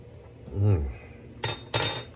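A metal spoon clinks twice against a pot of rotisserie chicken soup, two sharp bright taps in quick succession after a brief low vocal sound.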